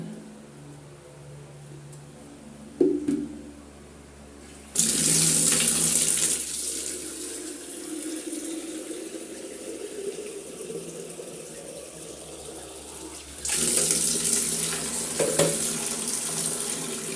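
Water pours steadily from a tap with a rushing hiss that swells louder partway through, then eases and surges again near the end; no one speaks.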